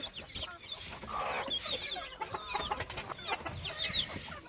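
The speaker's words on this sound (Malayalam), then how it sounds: "അത്യാവശ്യം നല്ല വലുപ്പമുള്ള കോഴിക്കുഞ്ഞുങ്ങൾ കഴിഞ്ഞ ബേച്ചിൽ വിരിഞ്ഞിറങ്ങിയ കോഴിക്കുഞ്ഞുങ്ങളാട്ടോ ഇവർ" Busy poultry chatter, with several birds clucking and cheeping over a steady background hum, fairly close and continuous.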